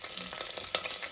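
Onions and curry leaves frying in oil for a broad bean and potato curry, a steady soft sizzle with light stirring scrapes and a small pop, close and fairly quiet, no voices.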